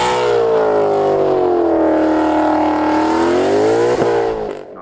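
A 2021 Dodge Durango Hellcat doing a burnout, its engine letting out a loud, sustained roar that sags and then climbs in pitch before cutting off abruptly near the end.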